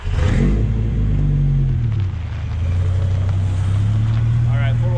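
Heavy V10 engine of a 1995 Ram 2500 pickup drumming loudly off-road, a low steady rumble that dips briefly then rises again in a revving surge, with a voice talking briefly over it.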